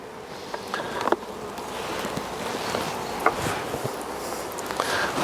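A steady hum of many honey bees buzzing in a hive during drone brood removal, close and continuous, with occasional louder individual bees passing nearby and faint rustling.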